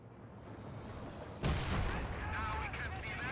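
Tank cannon fire and artillery in a Company of Heroes 2 battle, with a Comet tank firing on Grenadiers: low ambient battle rumble, then a sudden loud boom with crackling aftermath and lingering rumble, a voice talking over it.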